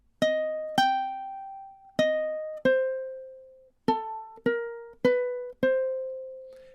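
Ukulele phrase from a tune, eight plucked notes in a syncopated rhythm, each bright attack ringing and decaying, played alone, clear and close.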